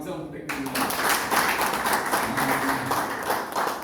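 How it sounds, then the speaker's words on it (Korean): Audience applause at a lecture in Jinhae, a dense, steady wash of many hands clapping that starts abruptly and stays loud and close, with faint voices underneath. "박수 한번 부탁드립니다"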